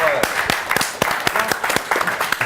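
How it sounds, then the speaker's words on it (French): An audience claps enthusiastically, a dense patter of hands with sharper individual claps standing out, sustained and fairly close. "je vous demande de l'applaudir, Fred est parmi nous."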